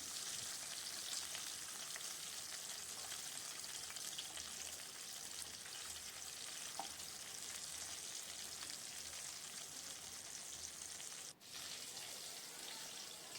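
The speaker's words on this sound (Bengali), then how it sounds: "মাছগুলো একটু কড়া করে ভেজে নিলাম" Fish pieces coated in rice flour sizzle as they fry crisp in hot oil, a steady close crackle with no voices over it.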